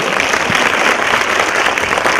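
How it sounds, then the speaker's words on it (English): Conference audience applauding steadily, a dense wash of many hands clapping at once that holds at full strength for about two seconds with no voices standing out. "i need an applause. Come on. I want to hear it."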